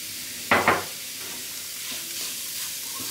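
Fried cashews and raisins stirred in ghee in a pan for gujiya filling: two quick close scrapes of a spoon early on over a faint, steady sizzle.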